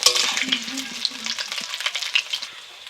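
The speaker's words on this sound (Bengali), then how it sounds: "আমার তেলটা গরম হয়ে গেছে, এখন আলুগুলোকে দিয়ে দেবো। আলুটাকে একটু নাড়াচাড়া করে দিচ্ছি।" Potatoes dropped into hot oil and stirred, a bright close crackling sizzle with quick spatula scrapes that eases off slightly toward the end.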